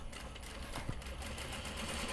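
Sewing machine stitching pocket pattern pieces together, a steady, faint, even whir with no pauses.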